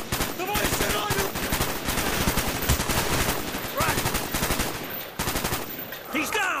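Rapid bursts of automatic gunfire ring out in Call of Duty Black Ops, loud dense rattling volleys in repeated clusters with brief gaps, shouted voices faintly mixed in.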